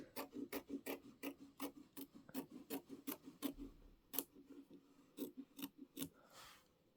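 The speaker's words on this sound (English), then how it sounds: "We're going through 1 layer of fabric, so snips are enough." Fabric snips trim through a single layer of quilting fabric, a close, quiet run of rhythmic crisp snipping clicks, evenly paced with a few short pauses.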